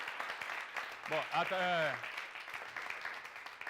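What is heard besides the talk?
audience applauding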